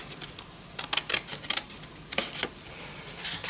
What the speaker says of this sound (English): I'm just going to roughly cut round.